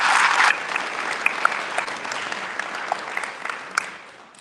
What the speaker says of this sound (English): Let's have a round of applause for everyone who worked on our organized events.